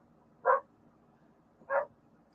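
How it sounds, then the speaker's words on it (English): A dog gives two short, separate barks about a second apart, moderately loud against a quiet, low background hum. "Sorry about the dog barking."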